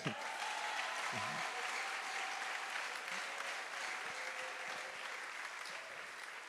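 A church congregation applauding, sustained dense clapping that holds steady and fades slightly toward the end, with faint voices mixed in.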